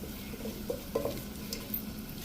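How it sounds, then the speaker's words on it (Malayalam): Chopped onion fries in hot oil in a pan, a steady soft sizzle with a few scraping stirs and light clinks against the pan, close and clear with no voices. "സവാള നന്നായിട്ടൊന്ന് ചെറുതായിട്ടൊന്ന് ഫ്രൈ ആവട്ടെ."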